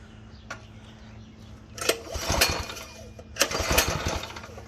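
A Predator 212 engine on a go-kart is started, with a few sputtering bursts and uneven rising chugs in two surges, close by over a low steady background hum.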